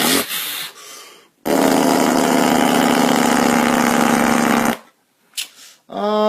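A voice imitates a big Detroit diesel semi truck engine with big stacks, a sustained rattling growl lasting a few seconds, with short revving bursts around it.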